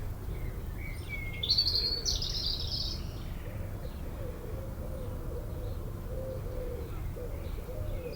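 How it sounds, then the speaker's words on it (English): Pigeons coo softly in a steady low murmur outdoors while smaller birds chirp in brief higher bursts near the start, all fairly faint under a light background hiss. "You can hear pigeons in the background."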